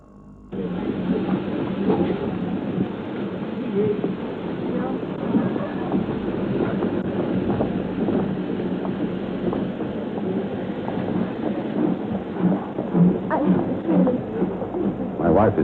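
A train running on rails in a 1970s TV play, a steady muffled rolling rumble with rhythmic clatter that holds throughout, band-limited and carrying faint voices and background activity.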